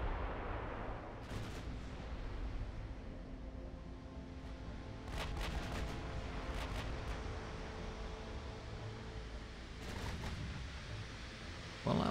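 Torpedoes strike a ship in a naval battle video game, making several distant, muffled blasts in separate bursts over steady background rumble. The impacts are fairly faint, with a low booming tail after each hit.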